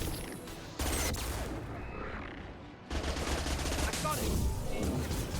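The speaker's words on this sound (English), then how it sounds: "We're taking fire down here" Sustained gunfire from Mass Effect 2 during a fight with Geth, a dense crackling barrage that briefly dips then returns louder, with a player's short remark over it.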